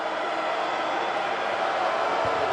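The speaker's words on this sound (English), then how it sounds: "Crowd making some noise." Basketball arena crowd at a college game, a dense steady roar of cheering and noise from many voices, loud and continuous throughout.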